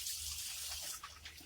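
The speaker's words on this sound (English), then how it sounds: "I'm going to wash my little pinkies off here." Cold water runs from a kitchen tap as hands are rinsed under it, a faint steady rushing splash that breaks into softer irregular splatters near the end.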